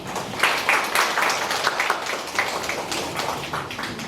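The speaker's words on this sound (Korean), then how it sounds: "큰 박수로 모시겠습니다" An audience claps to welcome a speaker at a high school admissions and career information session: a dense, steady patter of hand claps lasting a few seconds, with no voices over it.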